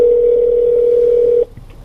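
A 2015 Honda Accord EX-L's cabin speakers carry a phone call tone, a loud steady single pitch holding for about a second and a half before stopping abruptly into near quiet.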